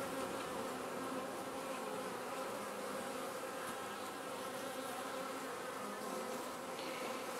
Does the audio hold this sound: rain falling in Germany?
no